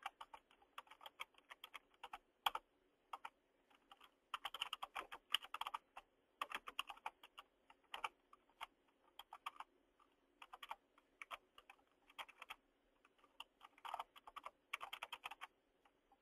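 Computer keyboard typing in short irregular bursts of crisp key clicks separated by brief pauses, close and quiet, while property details are entered.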